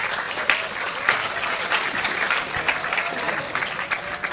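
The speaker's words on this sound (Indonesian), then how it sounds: "Tepuk tangan untuk anak kita berdua." A seated audience at an Indonesian religious and cultural gathering applauds for two children, giving dense, steady clapping that holds at an even level for the whole stretch, with a few sharper claps standing out.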